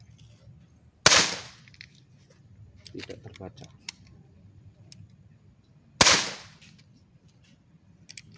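An upgraded Umarex Walther CP88 Competition air pistol fires two sharp, loud shots about five seconds apart. Faint handling clicks fall between them.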